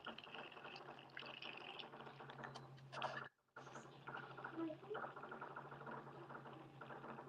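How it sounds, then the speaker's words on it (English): Diet Coke being poured indoors, a steady fizzy liquid pour running for several seconds with a brief break, quiet and close, with faint background murmur. "just pouring a Diet Coke"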